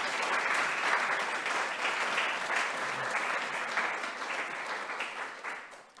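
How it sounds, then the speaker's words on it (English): Sustained audience applause for the event team at a volunteering gathering, a full, steady wash of clapping that holds for several seconds and then tapers off at the end. "So just a big round of applause for the colleagues."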